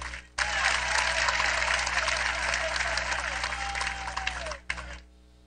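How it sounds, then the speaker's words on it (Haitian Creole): Steady applause from a crowd for a team, a dense even clapping that begins abruptly, holds for about four seconds with a tone running underneath, then cuts off. "un gros applaudissement pour l'équipe ça"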